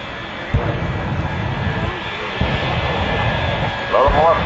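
The jet-powered engine of a turbo truck roars loud and continuous during its run at a truck show, with rumbling surges and a rising whine toward the end.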